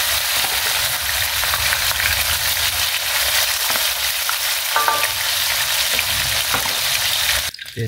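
Chicken pieces fry in hot oil in a home kitchen for a soy-sauce chicken dish, a loud, close, continuous sizzle with crackles and pops and occasional stirring, ending in a brief clatter.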